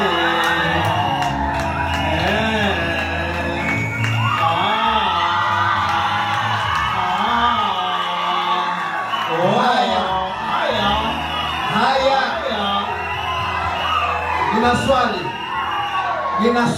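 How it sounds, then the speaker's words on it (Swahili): Guests at a Kurian wedding cheer, whoop and yell as a loud, dense crowd, with voices shouting and calling throughout and no clear pause. "wapigieni makofi tena"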